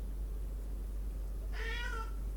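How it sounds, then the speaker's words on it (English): A house cat lets out a single clear meow indoors, short and drawn out, over a steady low hum and with no one talking. "out there meowing at me now"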